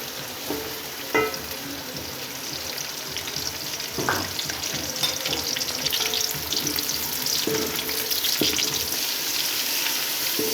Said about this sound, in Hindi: प्याज हमारे हल्के फ्राई हो चुके हैं